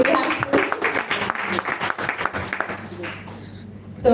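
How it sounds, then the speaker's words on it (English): An audience claps together in a hall, steady dense applause with a rhythmic patter that fades toward the end while a voice talks over it. "Unless you want us to clap louder."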